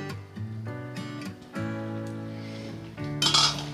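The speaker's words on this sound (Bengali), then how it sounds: "ঢাকা তুলে আমি আবারও দেখে নিচ্ছি।" Metal pot lid lifted from a pot of simmering mutton do pyaza, giving several clear clinks and rattles with ringing metallic tones, close and fairly loud, ending in a brighter scrape.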